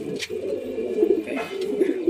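Racing pigeons at a loft coo close by, a few low throaty coos repeating over a soft steady background, with no talking.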